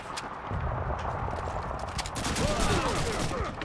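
Dense gunfire crackles in a World War II shooter game, rapid overlapping rifle and machine-gun shots mixed with clattering footsteps, sustained and close.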